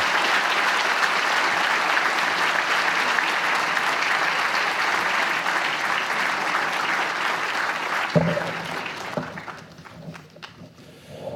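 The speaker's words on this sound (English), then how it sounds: "I think that calls for another round of applause." A large audience at the 2018 Texas McCombs MS programs commencement ceremony claps in a dense, sustained round of applause that holds steady, then thins into scattered claps and a few knocks.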